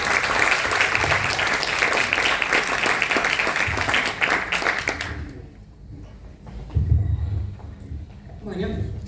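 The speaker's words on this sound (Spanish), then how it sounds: "Fuerte aplauso para ellos." Audience applause at a seminar on strengthening the electoral system, a dense round of clapping that cuts off abruptly about halfway, followed by murmuring and light room noise.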